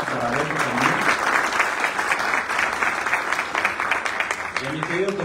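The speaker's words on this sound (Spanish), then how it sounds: "Un aplauso para Beto también." Audience applause at a book presentation event, steady dense clapping filling the room for several seconds, with a person's voice speaking over it at the start and end.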